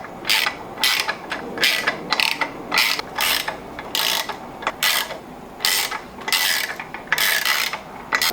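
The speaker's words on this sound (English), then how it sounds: "I'm gonna use my ratchet here, get a couple turns on each one to make sure it's going down evenly" A hand ratchet clicks in repeated bursts, close and loud, while tightening the pressure plate bolts of a clutch on an MK3 12V VR6 engine, with short pauses between each run of turns.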